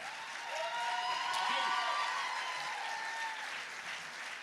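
An audience at the final evening of a new-voices song festival in Vittorio Veneto applauds after a band's performance, a steady, fairly distant wash of clapping that swells slightly and then holds, with no voices.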